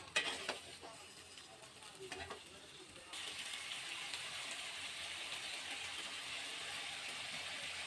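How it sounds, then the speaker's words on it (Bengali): Potatoes stirred and frying in oil in a pan, a faint steady sizzle with light scraping and clinking from the spatula early on, then an even hiss, no voices. "আলুটা একটু এখন হালকা করে তেলের মধ্যে নাড়াচাড়া করে নিব।"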